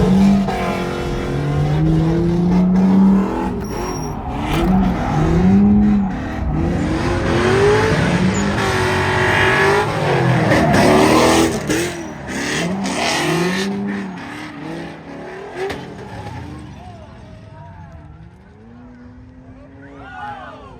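Two Infiniti G35 cars drifting in tandem in the USA, engines revving and screaming loudly with squealing tires, passing close by, then fading as the noise drops off toward the end.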